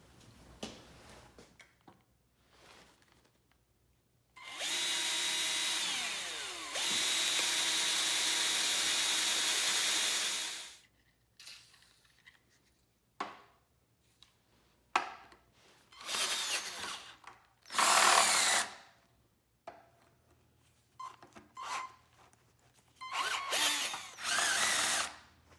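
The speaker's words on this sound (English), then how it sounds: "I'm going to drill straight down all the way through into this angle iron" A power drill bores straight down through angle iron on a sheet metal brake built on a Black & Decker Workmate, a loud sustained whine of several seconds followed by shorter intermittent bursts and pauses, close by.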